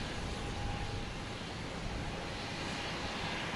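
A JetBlue Airbus A320 airliner at Boston Logan Airport gives a loud, steady broadband jet roar that holds evenly for a few seconds, close and without voices.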